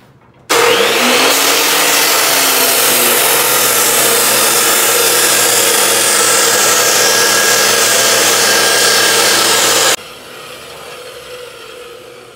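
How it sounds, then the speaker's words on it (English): An abrasive chop saw cuts through wood for a river table build, a loud, steady grinding whine holding for about nine seconds after spin-up, then stopping abruptly, leaving a quieter hum. "Okay, so we're gonna try it on the chop saw."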